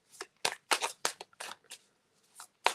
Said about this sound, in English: I'm still pulling a card. I'm just, you know, shuffling and it's not coming out